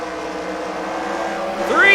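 Race cars battle in a short-track heat race, a dense, continuous engine roar that swells near the end as cars close in, with an announcer talking over it.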